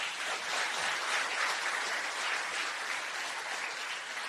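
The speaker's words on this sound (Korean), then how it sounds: "박수 한번 쳐주세요." A lecture audience of lawmakers applauds, with a broad, even wash of clapping from many hands that stays steady throughout.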